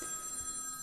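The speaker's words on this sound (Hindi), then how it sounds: "तो थोड़ा सा आपको फोन की घंटी भी सुनाई दे रहा होगा" A telephone rings in the background, a faint, brief, steady tone under low room noise with no talk.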